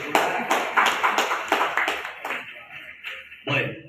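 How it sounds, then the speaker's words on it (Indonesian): Audience at a ceremonial anniversary celebration clapping in sparse, rhythmic bursts that thin out and then pick up again briefly at the end. "Sekali lagi kami mohon aplaus yang meriah."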